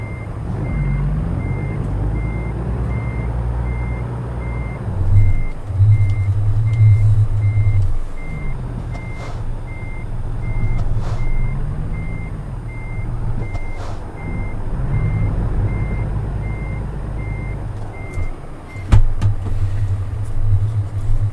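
A big rig in American Truck Simulator backs up with a steady series of regularly spaced reversing beeps over a low, continuous diesel rumble, the engine note rising and falling as it maneuvers, with a sharp clunk near the end.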